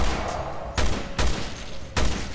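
Gunfire in the video game Resident Evil Revelations 2 rings out in three sharp, close bursts spaced about a second apart over a steady, noisy game backdrop.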